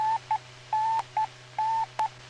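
Aircraft radio range beam signal in steady dash-dot Morse tones, alternating long and short beeps over a low, constant hum, clear and isolated.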